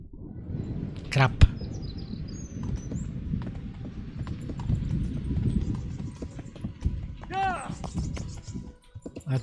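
Rhythmic clip-clop of horse hooves moving steadily in the video game Kingdom Come: Deliverance, with a sharp whooshing sound early on and soft chirps in the background.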